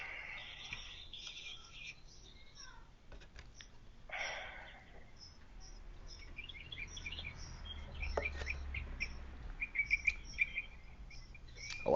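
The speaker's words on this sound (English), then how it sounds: "They're just his wild birds in his backyard." Wild birds chirping in a backyard, scattered short calls and tweets at a moderate distance over low outdoor rumble, with a light drizzle falling.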